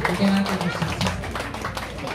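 An audience at a family gathering gives a round of applause, a dense burst of hand clapping mixed with voices and chatter across the whole moment.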